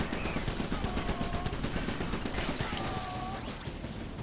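Shotgun fire in the trench shooter video game Re-Trenched, dense rapid blasts packed into a continuous loud barrage with no clear gaps.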